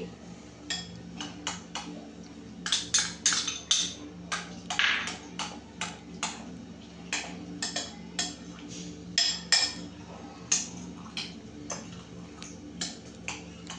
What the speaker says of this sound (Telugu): ఇప్పుడు ద్రాక్ష వేస్తున్నానండి.